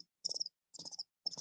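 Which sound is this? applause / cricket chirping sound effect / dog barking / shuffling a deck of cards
cricket chirping sound effect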